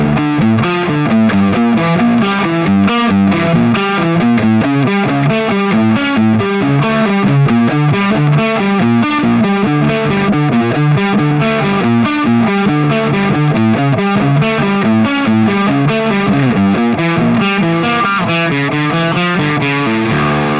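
A heavily distorted electric guitar plays a fast, chugging riff with a steady driving rhythm, loud and close, with no voices.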